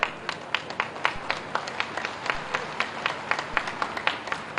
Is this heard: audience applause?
yes